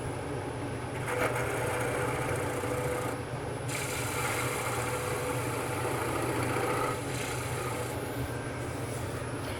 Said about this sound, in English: I'm going to take a spindle gouge, come right in like so.